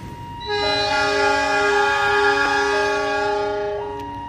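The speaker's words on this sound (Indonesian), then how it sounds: "kereta api Argo Semeru sudah berangkat ya" An Argo Semeru passenger train sounds a loud, sustained multi-tone horn as it departs, the chord holding steady for several seconds and shifting pitch partway through before fading slightly.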